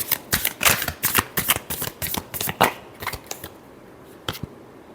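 Tarot cards being shuffled for an astrology love reading, a rapid run of crisp riffling flutters that slows into a few final soft snaps, close and clear with no talking.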